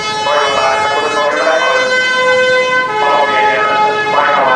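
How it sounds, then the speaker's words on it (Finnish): A fire truck siren wails at a market fair in Finland, a loud rising and falling two-tone cry repeating over steady engine and crowd noise, close by. "yksi paloauto tulee paikalle"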